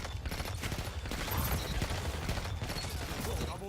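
Rapid bursts of shotgun fire in the video game Destiny 2, several dense blasts in quick succession over busy game sounds, with a voice talking over the action.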